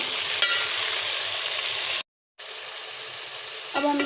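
Thin slices of meat frying with garlic ginger paste in a hot pan, a steady close sizzle with stirring, briefly cut to silence midway.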